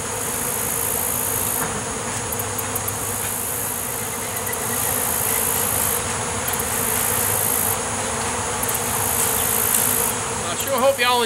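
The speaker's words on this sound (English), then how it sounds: "bees are gravitating to our setup" Dense, continuous buzzing of many honey bees close by during a hive removal, a steady swarming drone with no talk.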